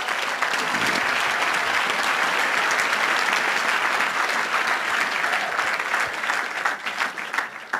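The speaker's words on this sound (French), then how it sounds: "On acclame le Seigneur pour Téla" A church congregation gives sustained, dense applause that fills the room evenly for several seconds before thinning out near the end, with faint voices mixed in.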